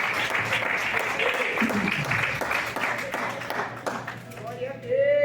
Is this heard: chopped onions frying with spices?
no